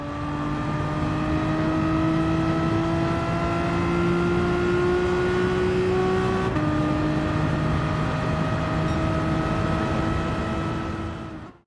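Race car engines in Gran Turismo 7 at Brands Hatch, a loud sustained high-revving whine that climbs steadily, drops sharply at a gear shift, then climbs again before cutting off at the end.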